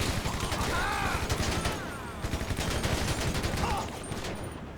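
Rapid gunfire crackles in GTA Online, dense overlapping shots in bursts with whizzing effects, loud and close, easing toward the end while someone talks over it.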